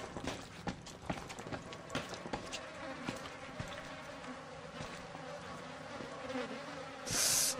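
Flies buzz continuously and fairly loudly in the horror game Outlast Whistleblower, a dense droning hum, with occasional clicks and footstep-like taps and a brief hiss burst near the end.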